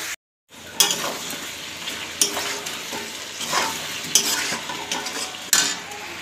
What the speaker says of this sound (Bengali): এ দেখো আমি এটাকে ভালো করে ভেজে নিয়েছি